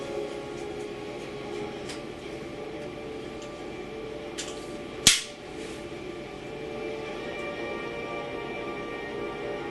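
A single sharp crack from a GAMO Compact .177 caliber air pistol fired at a target, standing out once from a steady background hum.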